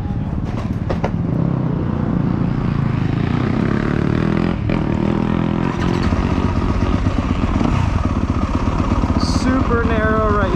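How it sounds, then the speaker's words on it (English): A 2024 Yamaha YZ250F motorcycle engine running on a first ride at the LA Coliseum, loud and close with a steady buzzing drone that rises and falls in pitch as the rider works the throttle. "First ride, 2024 YZ250F."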